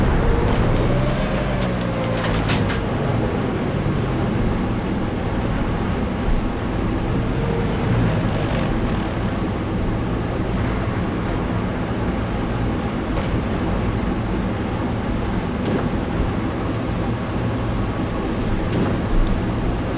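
A Super Pershing tank drives across a World of Tanks battlefield, its engine giving a steady, loud low rumble and mechanical drone that holds throughout with no speech.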